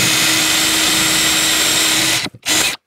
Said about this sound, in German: Wir probieren jetzt relativ gerade zu bohren.